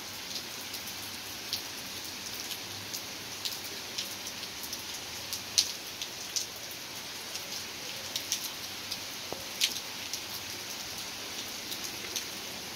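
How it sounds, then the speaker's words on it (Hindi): Heavy rain pouring steadily, a dense even hiss with scattered sharper drips and splashes close by, no voices. "ज़बरदस्त बारिश हो रही है।"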